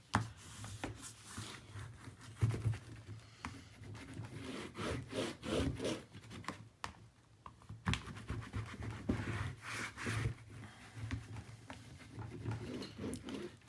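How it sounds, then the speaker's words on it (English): Steady rubbing and scraping as taped paper is burnished down on a page of a 9 x 10 mini album, faint and continuous with uneven strokes and no talking. "Give it a good burnish."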